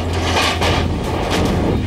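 Heavy booming blasts from Dhanush artillery guns roll out in close succession, deep and loud, with no voices, during a Republic Day parade on Rajpath.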